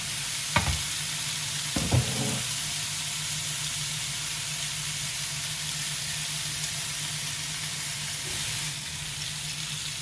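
Spicy salmon brushed with olive oil grills in a covered pan, giving a steady, close sizzle and hiss throughout. A couple of light knocks come early, and there is no talking.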